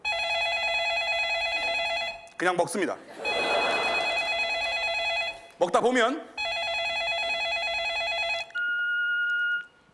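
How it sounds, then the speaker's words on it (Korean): A telephone rings during a meal with a steady, loud electronic tone repeated in long bursts, broken twice by someone speaking close by; a different electronic tone takes over at the end. "그러다가 전화가 옵니다."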